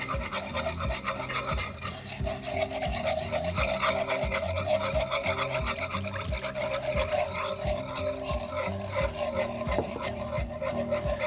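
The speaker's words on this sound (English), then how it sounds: "now it's time to whisk in your milk" A whisk scrapes rapidly and rhythmically around a pan as milk is beaten into flour for chicken fried steak gravy, a steady close rasping with repeated strokes and no talking.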